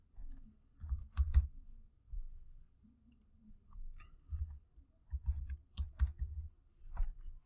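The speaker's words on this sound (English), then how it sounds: "I can just start typing in names here." Soft, irregular key clicks from a computer keyboard as names are typed in quick bursts with short pauses between them. The sound is faint and close.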